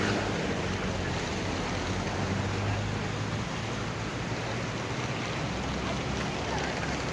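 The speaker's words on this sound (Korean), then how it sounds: "여기는 이 강이 파도가 쳐요." Waves breaking where a river meets the sea at San Sebastián, Spain, a steady wash of surf that roars continuously with wind buffeting the microphone.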